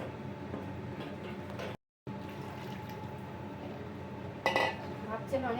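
Tamarind dal with ginger is stirred in a pot, soft scraping and clinks of a utensil against metal over a low background, with a brief silent gap and a couple of sharper knocks near the end.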